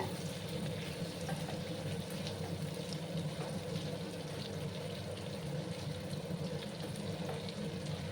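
Potato pieces frying in hot oil over high heat, a steady dense sizzle with a soft low bubbling bed throughout, even and unbroken with no voices.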